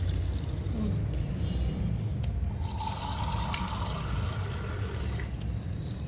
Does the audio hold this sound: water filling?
yes